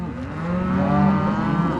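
Cattle mooing during calf weaning, with cows and calves calling in a continuous, fairly loud low lowing that swells and holds across the whole stretch, no talk over it.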